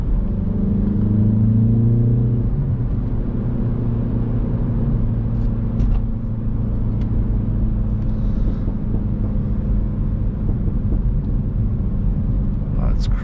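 A MINI Cooper S engine drones steadily from inside the car, with a few sharp exhaust crackles and pops breaking through the low rumble.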